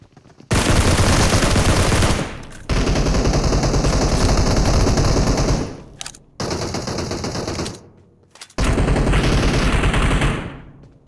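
Dense bursts of automatic gunfire from the battle-royale game PUBG, loud and close, arriving in several long sustained volleys separated by brief pauses, with no talk over them.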